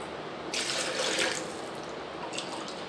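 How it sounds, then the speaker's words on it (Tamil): A steady stream of water runs into a cup while butter and ghee are made at home, louder at first, then easing, with a second short burst of flow near the end; close and alone, without speech. "ஸோ இந்த கப்பில் 2 கப் அளவு வந்து நீங்கள் தண்ணி ஊற்றிக்கோங்க."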